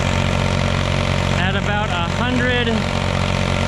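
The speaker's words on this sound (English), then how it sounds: "And I guess we'll keep having big tractor power moments where we list out the horsepower. It's a 3-cylinder naturally aspirated" A mud-covered 3-cylinder naturally aspirated tractor engine of about 178 cubic inches and roughly 40 horsepower runs at a steady, loud, low drone throughout, with someone talking over it partway through.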